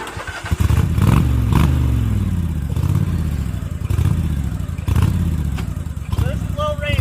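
An off-road riding mower engine pulls in low-range first gear, running loud and steady with rough, rising and falling revs and clattering mechanical noise, nearby and continuous throughout.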